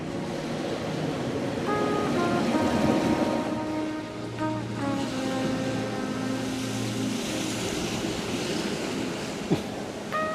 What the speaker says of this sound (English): The waves are rolling underneath.